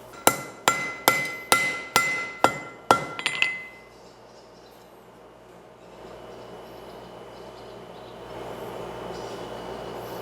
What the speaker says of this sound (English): I take it out and weld it